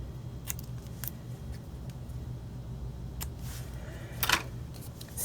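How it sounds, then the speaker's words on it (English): Scissors snip through a little paper banner tail piece for a scrapbook page: several quiet, crisp cuts spaced irregularly, with one louder snip near the end, close and alone without talk. "I'm going to cut a little banner tail piece on the bottom here."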